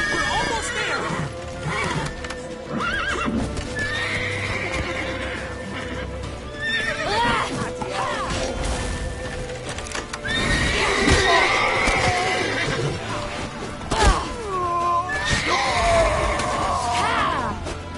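Horse neighing and hoofbeats in the video game The Witcher 3: Wild Hunt, with several loud whinnies and clip-clopping hooves over game sounds and scattered shouting voices.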